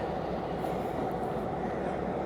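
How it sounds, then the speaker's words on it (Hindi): A lone locomotive shunting at Colombo railway station in Sri Lanka, giving a steady rumbling rail noise that holds at an even loudness throughout, with no voices. "ये एक लोकोमोटिव अकेला कोई शंटिंग कर रहा है"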